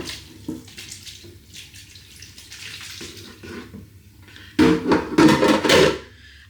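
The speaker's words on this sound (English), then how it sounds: "you want to be draining the pasta" Pasta and its cooking water poured from a pot into a mesh strainer set over a bowl for a Cajun chicken pasta bake, quiet trickling at first, then a loud gushing splash near the end.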